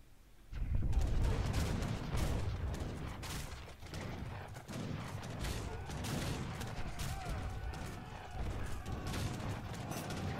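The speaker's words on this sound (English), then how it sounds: "One mortar is shooting down Hazza's base on the side." Mortar fire on a base in Age of Empires III, heard as a dense, continuous barrage of booms and gunfire-like cracks with battle clatter throughout, moderately loud and without clear talk over it.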